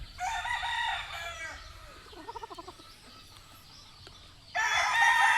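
A blue-legged rooster crows loudly and close at the start, falls quiet for a few seconds broken by soft clucking, then launches into another strong crow near the end.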